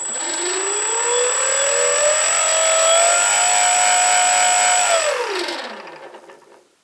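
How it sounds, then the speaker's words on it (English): An E-flite P-47 Thunderbolt RC plane's electric motor spools up into a loud, rising whine with a high steady tone and a rubbing buzz. It holds for several seconds, then winds down and fades out. "I'm not flying it just yet, so let's give this a motor test."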